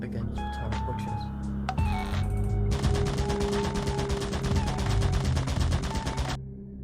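A turret in Lethal Company on Scratch fires a long, steady stream of rapid, evenly spaced shots over game music and background tones, loud and continuous until it cuts off near the end, with a voice talking over it.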